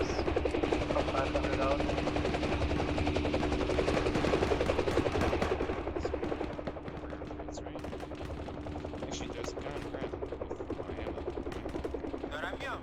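An Mi-26 helicopter in the game Arma 3 drones with a loud continuous rotor and engine roar that fades slightly halfway through, while bursts of gunfire crackle on top and voices talk over it.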